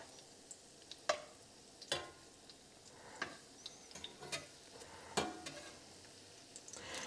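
Zucchini blossom fritters fry quietly in a pan, a soft continuous sizzle broken by a few sharp ticks and clicks of a utensil, no one speaking.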